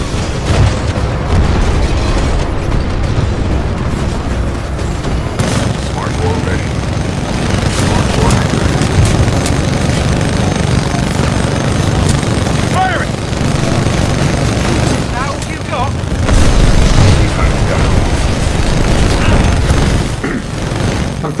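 Legion's minigun in Titanfall 2 firing in long, loud sustained bursts amid booming explosions and heavy combat noise, with a voice speaking over the gunfire throughout.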